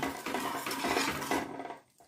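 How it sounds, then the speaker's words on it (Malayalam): Close, dense clattering and scraping of a utensil mashing and mixing sambar inside a metal pot for about two seconds, then stopping. "ഞാൻ ചെറുതായിട്ട് ഒന്ന് മിക്സ് ചെയ്ത് ഉടച്ചു കൊടുക്കാം"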